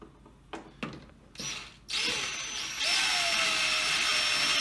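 A power drill drives screws into a foosball table during assembly: a few short bursts first, then a sustained whirring run that grows louder and steadier.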